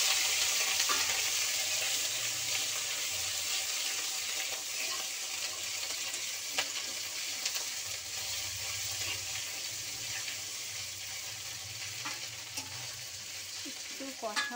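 Cumin paste, bay leaf and ginger paste frying in hot oil while being cooked for a small tengra fish curry, a steady close sizzle with occasional stirring clinks and scrapes.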